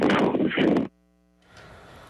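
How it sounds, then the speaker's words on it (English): Wind buffets a recorded phone call made in a residential neighborhood. A loud, rough roar fills the first second, then drops out sharply and returns as a fainter, steady hiss. "What you hear is a lot of wind, right?"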